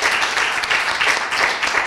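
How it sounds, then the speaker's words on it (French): A crowd applauds a shop owner at a regional business awards presentation in Argenteuil, a steady, dense wash of clapping that stays even and fairly loud throughout, with no voices over it. "on va quand même donner une chaude main d'applaudissement"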